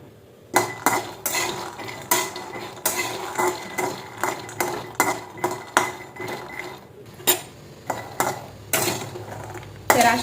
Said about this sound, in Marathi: चलो शेंगदाणे भाजायला टाकले.